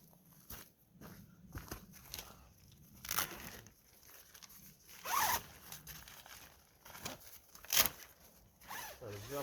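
A zipper on winter camping gear is worked in short, scratchy zips mixed with rustling fabric and crinkling, close and fairly faint, in a quiet setting below freezing.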